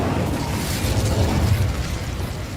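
A fire spell cast in the Hogwarts Legacy game bursts out as a loud, continuous whooshing roar with a rumbling low end, sustained and dense with no quiet gaps.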